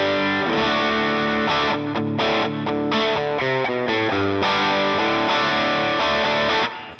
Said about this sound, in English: this is the guitar sound with just some reverb and overdrive